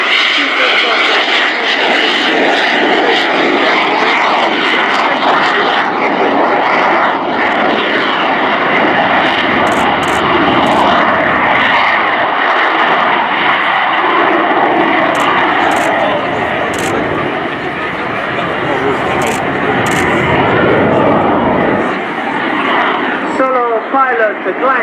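Frecce Tricolori jet aircraft performing a flying display at RIAT, a loud continuous roar of engines sweeping overhead, with a commentator talking over it throughout.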